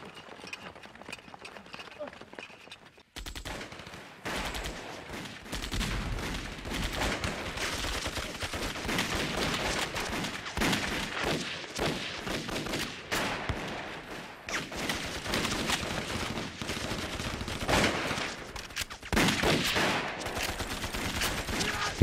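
Battle in a war action film set in a jungle against Japanese troops: dense, continuous gunfire and rattling bursts with shouting voices mixed in, loud and unbroken after a quieter opening few seconds.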